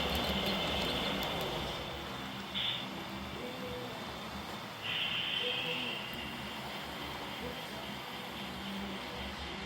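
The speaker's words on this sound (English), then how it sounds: "an E9 passenger locomotive with 6 cars, including a baggage dormitory and a couple dome cars, passing through town" An HO-scale model railroad E9 passenger locomotive hauls six cars, among them a baggage dormitory car and dome cars, through a small town scene, giving a steady loud rolling rumble with a couple of brief high squeals.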